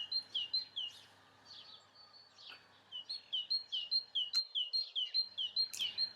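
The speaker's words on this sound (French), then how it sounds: "il y a simplement ce parc, le chant des oiseaux" Birds sing in a park, repeated bright chirping phrases coming in quick rhythmic bursts, fairly close and clear over a quiet background, with a brief lull midway before the calls resume.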